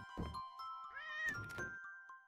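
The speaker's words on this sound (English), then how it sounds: "There's a cat." A cat meows in the video game Tick Tock Isle, a single clear, drawn-out, rising and falling meow over a quiet steady game tone, with no talking.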